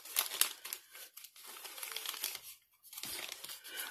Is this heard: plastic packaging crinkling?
yes